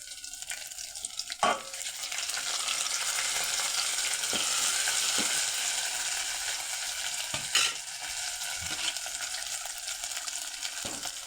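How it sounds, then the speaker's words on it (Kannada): Spices for a tempering hit hot oil and sizzle steadily in a pan as drumstick and lentil dishes are cooked, a continuous close frying hiss with a few sharp clinks and stirring knocks. "ಈಗ ಅದು ಒಗ್ಗರಣೆ ಹಾಕ್ತೀನಿ."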